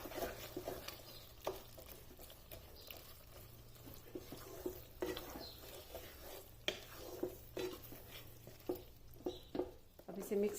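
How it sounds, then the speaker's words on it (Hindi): A spoon stirs Lahori chikar cholay, a chickpea curry, with a crumbled chicken stock cube in a cooking pot. The scraping and wet stirring come close and steady, with occasional knocks against the pot, and no one speaks. "इसे इस तरह मिक्स कर लेना है इसमें।"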